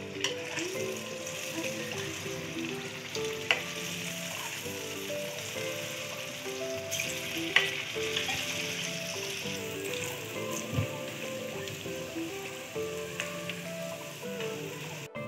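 Moong dal batter fulkiyan for dahi bhalla sizzle and crackle steadily in hot oil, a dense, continuous close-up frying hiss with occasional pops and stirring clinks, no voices.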